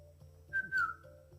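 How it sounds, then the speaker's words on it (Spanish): Mazatec whistled speech: a short, clear whistle that glides downward in pitch, with brief breaks, over a low background hum. "El mazateco chiflado nace a través de la necesidad de comunicarnos a grandes distancias"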